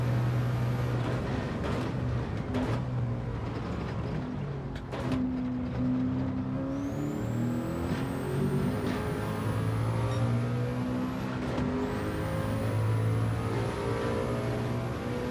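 A race car engine roars through a full lap in Gran Turismo 7, steady and loud, rising in pitch through the gears and dropping between them with a continuous drone and no talking.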